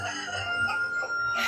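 Wild roosters crowing, their drawn-out calls rising and falling in a loud, continuous stretch that overlaps with other bird sounds.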